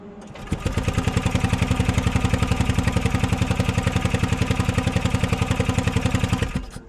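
1970 Piaggio Ape MP500 bar truck engine starting up, then settling into a loud, fast, evenly pulsing putter of single-cylinder beats before cutting off, recorded close with no talking.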